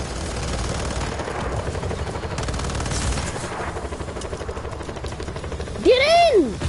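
Gunfire in the video game Just Cause 4 rattles in rapid, continuous bursts under talking voices, and a rising-and-falling whistle sweeps in near the end.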